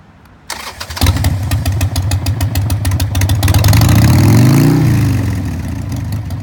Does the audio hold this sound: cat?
no